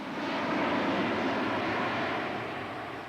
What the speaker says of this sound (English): the roar of turbofan engines occasionally drowned out model airplane noise as fighters flew in tight formation above show site